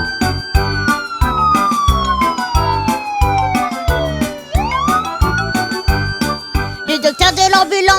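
A cartoon ambulance siren wails in a sweeping rise and fall, loud and close, riding over a bouncy rhythmic backing beat that keeps pulsing beneath it.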